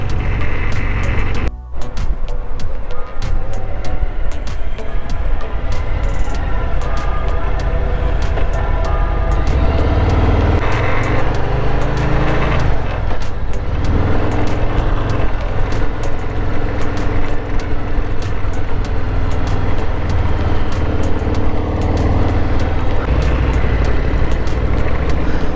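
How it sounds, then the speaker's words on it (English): A Harley-Davidson Softail Slim ridden on open roads near Cape Town and Simon's Town, its engine a steady low rumble under constant wind roar for the whole stretch, with no talk. "So I'm riding Michael's Softail Slim"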